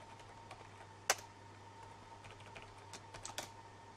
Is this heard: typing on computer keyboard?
yes